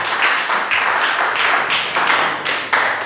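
Church congregation applauding during a worship service, in repeated bright bursts of clapping that swell and fade about every half second, close and fairly loud.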